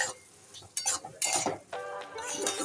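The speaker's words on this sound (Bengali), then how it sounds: "সিদ্ধ করা ডালটা আমি এখন দিয়ে দিচ্ছি, দিয়ে এবার নেড়ে চেড়ে দিচ্ছি।" A spoon stirs boiled mung dal into a pan of watermelon rind curry, scraping and clinking against the pot in a few uneven strokes over a soft sizzle, close and moderately quiet.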